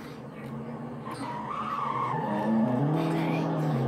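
A speeding car in a video game skids with a rising tire squeal and engine roar, loud and sustained, while a player talks faintly in the background.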